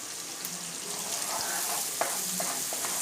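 Chili powder and turmeric powder sizzle and fry in hot ghee, a steady close crackle with a few sharp pops and light stirring scrapes, no talking over it.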